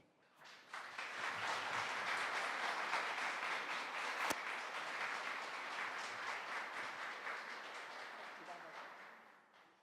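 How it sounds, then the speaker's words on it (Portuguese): Broad, steady applause from an audience welcoming a guest speaker at a church gathering, building quickly and holding as a dense wash of clapping that slowly tapers, heard from a distance at modest level. "Vamos receber com uma grande salva de palmas José Vicente."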